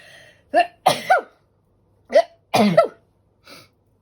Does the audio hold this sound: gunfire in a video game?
no